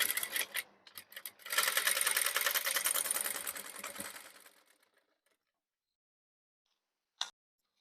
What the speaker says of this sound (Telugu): మనం ఎక్కడ మార్కేసినామో అక్కడ నుంచి ఈ చివరికి కుట్టేసుకోవాలి